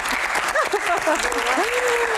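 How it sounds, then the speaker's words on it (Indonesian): Audience applause for a guest at a Q&A-style talk event, steady dense clapping throughout with voices and cheers audible over it. "tepuk tangan dong buat Bang Hensat"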